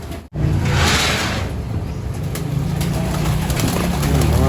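Racing pigeon cocks in a loft coo repeatedly in low, throaty calls. Wing flutters and rustling come in over the cooing. The birds sound close and fairly loud, and no one speaks.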